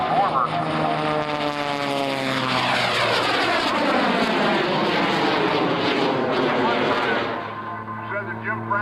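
Propeller airplane at an air show, an old-style racer with the cockpit set far back, roaring close and loud with a sweeping pitch shift as it passes, then fading slightly.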